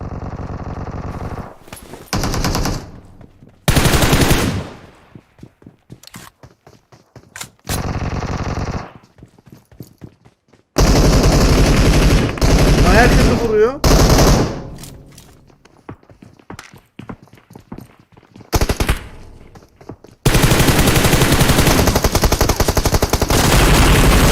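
Loud, close gunfire in PUBG Mobile comes in repeated automatic bursts and single shots, separated by short quiet gaps with footsteps and thuds.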